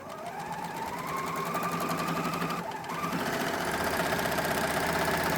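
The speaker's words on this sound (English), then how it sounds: "you always want to leave a tail when you're done stitching with the serger" Serger stitching a shoulder seam, a fast steady mechanical whir with rapid rhythmic needle clatter, close and continuous, speeding up slightly after a brief dip midway.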